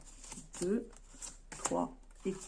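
Tarot cards shuffled in short soft rustling bursts at close range, heard under a person talking.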